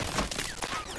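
Gunfire rings out in a shooter video game, a dense burst of overlapping shots filling the brief moment at steady, fairly loud level with no speech.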